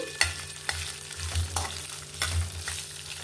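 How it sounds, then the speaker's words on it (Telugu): A generous batch of green chilies fries in a pan for an amla chutney, giving a close, steady sizzle broken by repeated scraping stirs of the spoon, with no voices. "కొంచెం పచ్చిమిర్చి ఎక్కువే వేస్తున్నాను. ఇప్పుడు ఇవన్నీ బాగా ఫ్రై అవ్వాలి."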